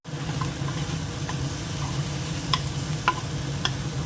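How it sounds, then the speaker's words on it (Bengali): Prawns fry in hot oil with a fresh green chilli, giving a steady, fairly quiet sizzle with a few sharp spits and pops rising out of it, and no voices. "এটা একটু এবার আগে ভেজে নিই চিংড়ি মাছটাকে"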